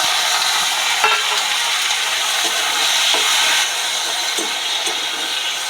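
Tomatoes and green chilies frying with browned onions in a pan give a loud, steady close sizzle and hiss, with occasional stirring scrapes over the top.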